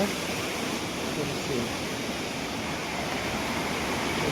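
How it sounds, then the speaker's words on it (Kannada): Elephant Falls in Meghalaya pours down in a steady, dense rushing roar that fills the whole stretch without pause, loud and close, like water crashing onto rocks nearby. "ಮೇಲ್ಗಡೆಯಿಂದನೂ ನೀರು ಬೀಳ್ತೈತೆ."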